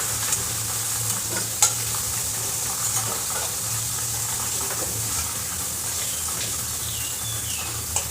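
Potatoes fried red-brown in hot oil for a spicy bam fish curry, lifted out of the pan: a steady broadband sizzle runs throughout with a low hum and occasional soft clinks of a utensil.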